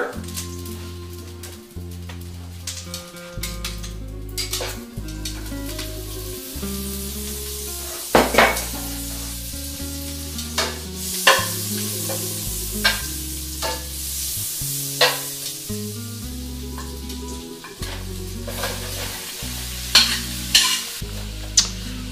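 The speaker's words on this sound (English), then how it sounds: "we're gonna saute our onions in the 2 tablespoons worth of butter" Onions sautéing in two tablespoons of butter for a Flemish stew, a soft sizzle under repeated stirring and occasional clinks of a utensil against the pot, close up with no talking.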